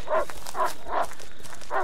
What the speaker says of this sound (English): It's kind of barking at me somewhat like a wolf.